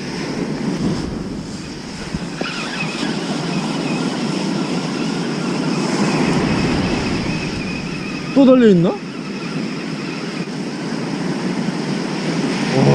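Waves break steadily on the East Sea beach at Yeongjin, Gangneung, a broad continuous wash of surf with wind buffeting the microphone, while a person speaks briefly over it.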